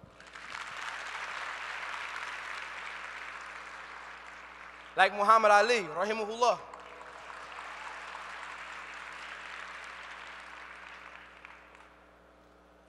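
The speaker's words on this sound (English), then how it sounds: "Give him a round of applause." Applause from an audience at a talk, a moderate wash of clapping that pauses briefly while someone speaks, then resumes and trails off.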